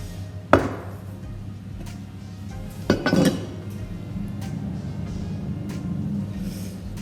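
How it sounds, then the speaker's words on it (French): A knife cuts through puff pastry dough for a galette des rois, with a sharp knock against the board, then a brief scraping cut and soft handling noise, close and otherwise quiet. "On va le couper en deux comme ceci"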